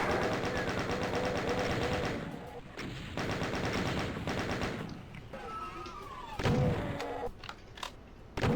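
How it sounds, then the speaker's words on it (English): Rapid chain gun fire in the video game DOOM, a dense loud stream of shots that breaks into shorter bursts and scattered single blasts toward the end, mixed with other game effects. "Chain gun maybe for the stragglers."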